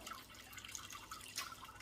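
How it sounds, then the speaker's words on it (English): Water drains and drips faintly out of an upturned Lot-O rock tumbler barrel full of mixed rocks and grit, a quiet, uneven trickle with scattered drips. "turn it upside down and let all the water drain out."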